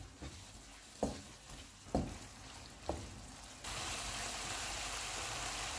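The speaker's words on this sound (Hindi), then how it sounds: "चूल्हे को लो टू मीडियम कर देते हैं और इसे 2 से 3 मिनट तक भूनेंगे।" Egg bhurji masala fries in a pan over low to medium heat, a soft steady sizzle punctuated by a few sharp stirring clacks, then a louder, denser sizzle in the final seconds.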